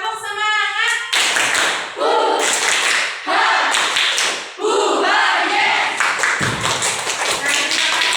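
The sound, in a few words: class rhythmic clapping chant (tepuk semangat)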